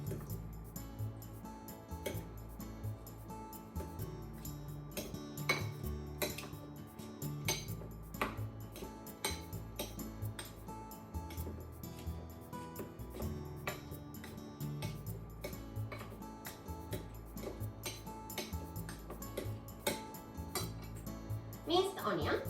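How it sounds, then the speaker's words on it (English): A fork or spoon mashes two boiled eggs in a bowl, making light, steady clinks and taps against the dish throughout, partly under a continuous background bed. "Two boiled egg in the bowl and mash it."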